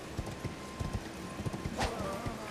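Horse hooves clip-clop in a steady walking rhythm in Elden Ring, up close and moderately loud, with game ambience behind and a brief whinny-like sweep near the middle.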